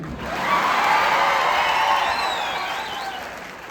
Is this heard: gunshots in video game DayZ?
no